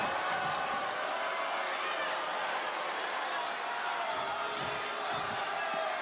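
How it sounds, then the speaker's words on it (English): Roaring arena crowd in the wrestling video game WWE 2K25, a dense, steady wash of cheering and noise filling the whole stretch at constant loudness. "Listen to this crowd."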